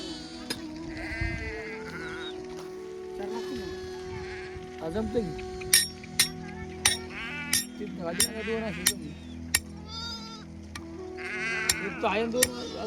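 Several sheep bleat repeatedly in a pen, the calls rising and falling over steady background noise, with sharp clinks and knocks scattered through, during a drought season on a Maharashtra farm.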